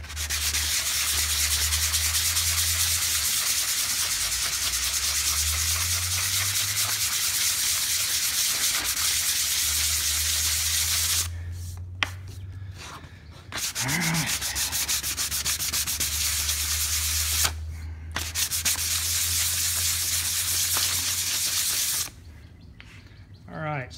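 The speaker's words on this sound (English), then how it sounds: "we do want to try to sand everything" Hand sanding an epoxy-finished wooden piece with 100 grit sandpaper makes a continuous, loud scratchy rubbing that runs almost the whole time, broken by a few short pauses between strokes.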